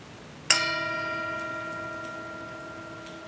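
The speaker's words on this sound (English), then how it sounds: "I'll welcome us back with the sound of the bell." A single bell is struck once to open a Sunday mindfulness service, ringing out clear and near, then slowly fading through a long, shimmering sustain in an otherwise quiet space.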